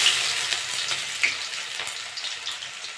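Onions frying in hot mustard oil with whole cumin seeds, a continuous close sizzle with light crackles and occasional stirring scrapes.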